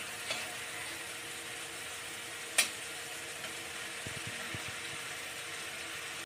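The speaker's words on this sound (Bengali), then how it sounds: "একটু ভেজে নিই। দেখুন এটা দিয়ে তেল বেরিয়ে গেছে।" Pointed gourd frying in oil for potol korma, a soft steady sizzle throughout with one sharp clink partway and a few low stirring knocks near the end, no talking.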